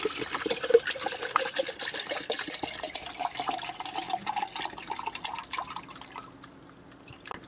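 Water streams into a Stanley tumbler in a close, busy trickle with splashing drips, softening and thinning toward the end as the pour slows.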